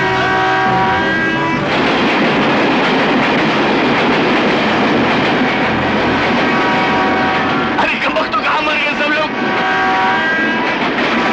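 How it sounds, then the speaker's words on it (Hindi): A train drawing near in a Bollywood film scene, heard as a loud, continuous rumbling roar with steady tonal hum and rattling, building over about eleven seconds with brief voices or shouts mixed in. "ट्रेन आ रही है।"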